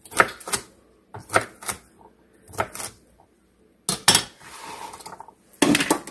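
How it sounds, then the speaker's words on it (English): A knife cuts vegetables into bite-sized pieces on a board, heard as close, sharp bursts of chopping taps in short groups separated by pauses. "So I'm just going to cut them into little bite-sized pieces."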